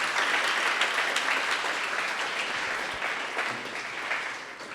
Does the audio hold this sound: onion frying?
no